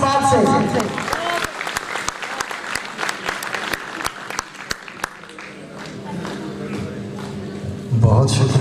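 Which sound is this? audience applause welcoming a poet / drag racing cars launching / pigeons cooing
audience applause welcoming a poet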